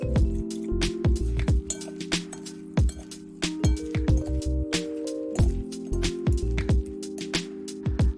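Lotus root salad with mayonnaise dressing and sesame seeds gets tossed in a bowl, with repeated wet squishing and clinking strokes over a low steady hum, loud and close.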